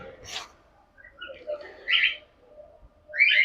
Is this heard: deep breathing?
no